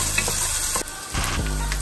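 Vegetables sauté in a hot pan, giving a steady close sizzle with brief stirring scrapes midway and no voices.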